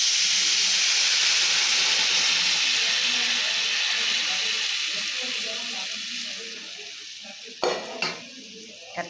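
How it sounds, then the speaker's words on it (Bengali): Tamarind water hits a hot cooking pan with a loud, close burst of sizzling and hissing steam that gradually fades, followed by a few clacks of stirring. "তেঁতুল জলটা দিয়ে দিব।"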